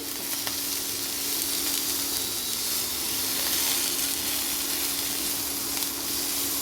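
Paneer sizzles loudly in a hot pan, a steady, dense hiss with salt added, as it is stirred now and then, close up and unbroken, with no voices.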